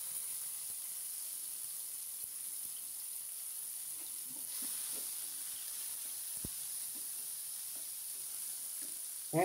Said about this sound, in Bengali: এখন দিয়ে দেব কিউব করে কেটে রাখা টমেটো